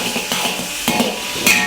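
Chicken slices stir-fry in oil in a wok, with a continuous close sizzle broken by several scraping strokes of a spatula against the metal.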